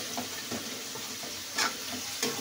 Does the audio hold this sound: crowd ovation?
no